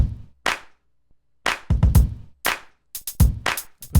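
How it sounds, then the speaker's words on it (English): Sharp clap samples snap over deep kick drum hits in a beat loop, the layered pattern growing busier toward the end with quick back-to-back hits. "I'll put the claps in there"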